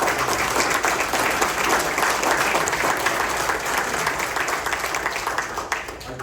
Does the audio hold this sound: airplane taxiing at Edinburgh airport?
no